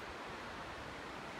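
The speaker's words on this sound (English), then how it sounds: "You just get all these huge mountainous waterfalls coming off here." A faint, even rush of distant mountain waterfalls near a glacier on the Bow Valley Highline, a steady broadband hiss like far-off falling water, with no voices.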